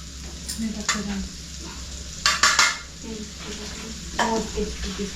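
Mutton frying in a pan in a homestay kitchen, with a steady sizzle throughout and a few sharper bursts of stirring and utensil scraping, heard at close range.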